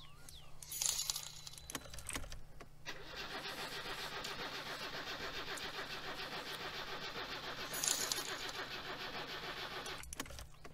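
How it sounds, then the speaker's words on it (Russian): Car engine in the video game My Summer Car cranking without catching, a long rapid chugging grind after a short key rattle, with a brief second start attempt, moderately loud and alone. "данный транспорт пока что не заводится"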